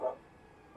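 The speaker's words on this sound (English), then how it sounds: "doggos are barking" Two short barks from a dog come faintly over a quiet background, one at the start and one at the end, with a near-silent gap between them.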